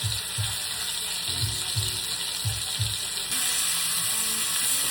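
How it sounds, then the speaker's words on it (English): A chuck roast sears in a hot pot, giving a steady sizzling hiss with a few soft low thumps early on as the meat is shifted, the frying growing slightly brighter toward the end. "I'm holding it on this side so I can get all sides browned"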